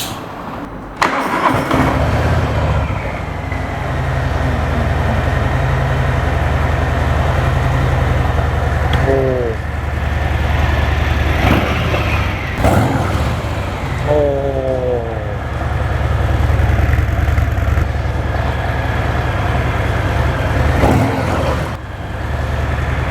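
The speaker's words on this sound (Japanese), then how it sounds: "では気になる両者の排気音サウンドチェックしていきたいと思います。 まずはミルウォーキー8117のブレイクアウト、" Harley-Davidson Breakout motorcycle with an air-cooled Milwaukee-Eight 117 engine starts and settles into a steady, deep, rumbling exhaust idle, loud and close, running continuously throughout.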